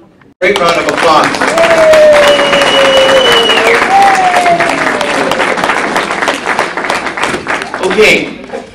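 A loud, sustained round of applause from the audience at a real-estate association breakfast meeting, dense clapping that swells quickly and holds steady for several seconds before thinning, with voices and a tone running faintly underneath.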